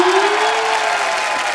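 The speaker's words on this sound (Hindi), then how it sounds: "तालियां।" Studio audience applause and cheering on a comedy talk show, a loud continuous roar of clapping with a voice or tone held underneath at the start, steady throughout.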